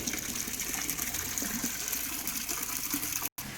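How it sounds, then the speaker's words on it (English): Water gushes steadily through an orifice meter pipe after a valve is opened, a broad, even rushing hiss heard close up for a few seconds, briefly cutting out near the end, with no talking. "You can allow the water to flow through by opening up this valve."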